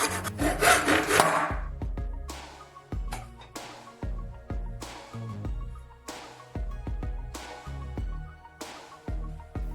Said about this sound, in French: Sciez strictement le long du bord du ruban.